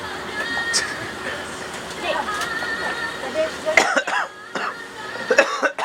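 A few short coughs and throat-clearing sounds break out amid nearby talking and background clatter at a village station in Kuala Lumpur, Malaysia.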